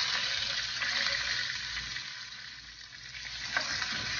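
Onion sizzling in a pan for a vegan tamale filling, a continuous bright hiss of frying oil that holds steady with no talking.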